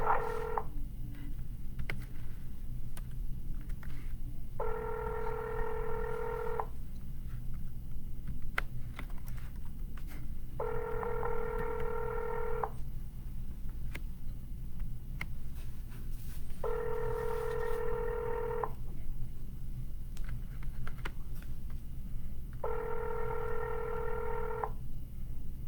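Telephone keypad tones for just-listed real estate cold calls, four evenly spaced bursts of dialing beeps, each lasting about two seconds, repeating over steady low background hum with no talk.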